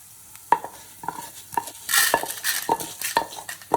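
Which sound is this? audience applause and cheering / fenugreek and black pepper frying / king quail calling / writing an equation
fenugreek and black pepper frying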